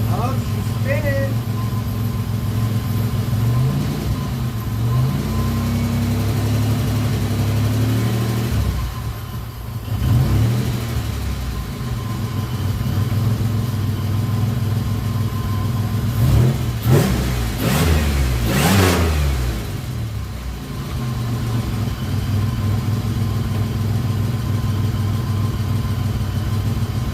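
Rebuilt 3.8-liter engine in a 2004 Pontiac Grand Am running on its first startup, a steady mid-pitched idle with a few revs, loud and close throughout with someone talking over it.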